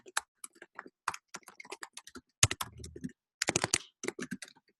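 Keys clatter on a computer keyboard in quick, irregular bursts of close, crisp clicks separated by short pauses, with no voices.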